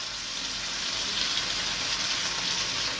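Chicken, potato and onion frying and being stirred in a pan, a steady broadband sizzle with soft scraping that continues evenly and fairly close, with no talking.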